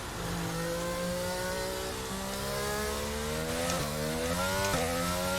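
An F1 race car engine accelerates hard in the F1 22 video game, a loud, steady high-pitched whine that climbs in pitch through the gears with brief dips at the shifts.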